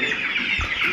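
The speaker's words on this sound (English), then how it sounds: "So if you need chickens, these are layers." Several laying hens clucking close by, overlapping chatter and short squawks from a busy flock, with no talking.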